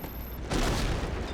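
A grenade blast in Killzone 2, short muffled boom rising halfway through over steady game noise, then a rumbling tail, with no talk over it.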